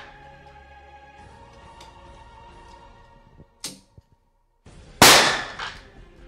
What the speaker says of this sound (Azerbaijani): İndi sınaq atışlarını da görəcəyik biz.